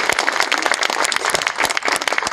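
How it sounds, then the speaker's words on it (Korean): Audience applause at the opening ceremony of a literature museum in Geochang, with irregular clapping bursts that stay steady and fairly close throughout. "여러분 다시 한번 큰 박수로 환영합니다."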